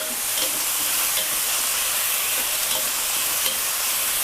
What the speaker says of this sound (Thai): เราก็จะราดน้ำซอสที่เราทำเตรียมไว้ค่ะลงไป ต้องให้เสียงสนั่นวันไหวแบบนี้เลยนะคะ